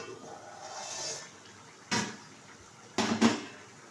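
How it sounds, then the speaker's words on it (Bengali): A metal lid is lifted off a pot of simmering chicken kosha, giving a couple of brief clinks and scrapes over a low kitchen background hiss. "ঢাকনাটা তুলে দিচ্ছি"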